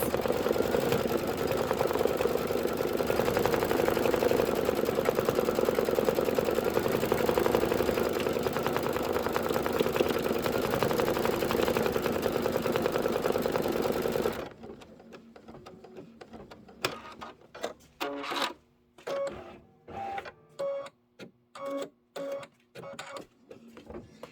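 Embroidery machine stitching daisy stamens, a dense steady mechanical buzz for about fourteen seconds, then slower separate thumps and chattering stitch bursts with gaps between them, close and alone.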